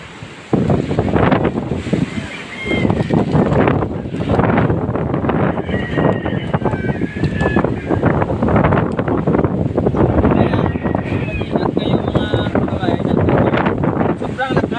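Strong typhoon wind from Typhoon Udit in Kabankalan City, Negros Occidental, roars and buffets the microphone throughout, with voices talking faintly beneath the constant rush.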